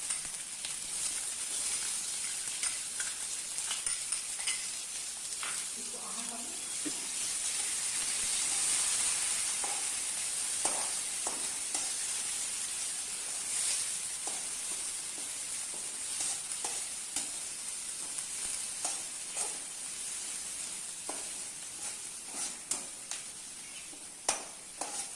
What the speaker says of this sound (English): Now we are going to add 1 bowl onion to it.